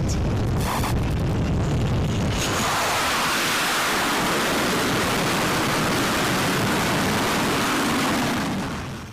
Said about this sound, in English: This is what it looks like when a fighter jet comes in for landing at night.